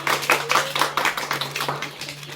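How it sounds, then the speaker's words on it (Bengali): A small group claps their hands together in a quick, uneven run of sharp claps, fairly close and steady for a couple of seconds during a children's quiz game. "সবাই হাততালি মারবে।"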